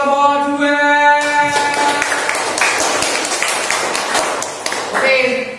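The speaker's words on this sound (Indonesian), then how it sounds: "tepuk tangan dulu untuk kelompok 2" Classroom applause for a student group, a burst of many hands clapping fairly close that sustains for several seconds, with speech heard before and as it fades.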